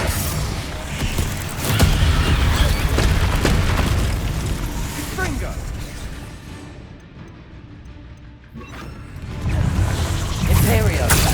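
Incendio fire spell cast in Hogwarts Legacy, loud booming bursts and crackling blasts over continuous game music and effects, with a quieter stretch midway before the roar returns.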